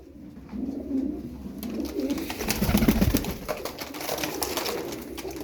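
Pigeons cooing in a loft of Turkish game birds: low, throaty coos that swell and overlap, close and fairly loud, over a steady hum.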